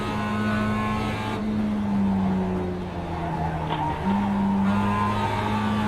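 Race car engine in a racing video game, a steady loud whine with a pitch dip as the car brakes for a corner, then climbs again, no talk over it.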